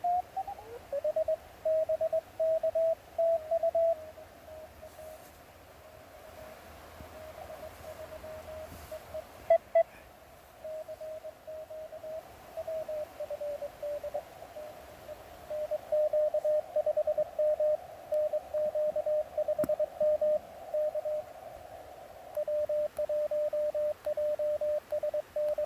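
Weak amateur radio signal at 14025 during a winter field day in cold, snowy New Hampshire: a faint steady Morse-like tone keyed on and off in bursts over a soft hiss of static, alone.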